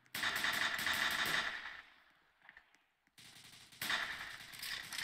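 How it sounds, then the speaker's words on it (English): Automatic gunfire during a large police shootout in the Roblox game ERLC, Liberty County. A rapid burst of shots gets quieter and breaks off. After a short near-silent gap, more fast volleys follow, loud and sustained. No talking. "the shot's fired, shot's fired"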